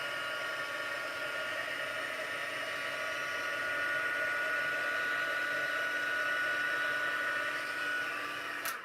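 Steady whirring hum of a heat gun blowing hot air to melt gilded embossing flakes during a stamping craft session, a continuous even drone with faint tonal whine and no speech throughout.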